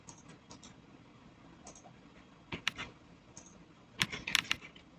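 Scattered keyboard clicks, soft at first, then a few louder clusters of typing near the end, close by with no voices.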